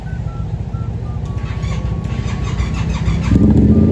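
A vehicle engine cranks and catches, settling into a rough, rapid idle that grows louder and deeper near the end as it revs up, close by with no talking.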